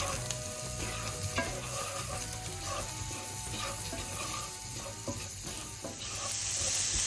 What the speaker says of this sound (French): J'y fais revenir les oignons émincés, auxquels je vais ajouter 1 cuillère à soupe de cumin moulu. Je mélange bien.